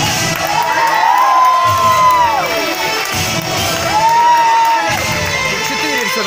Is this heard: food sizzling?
no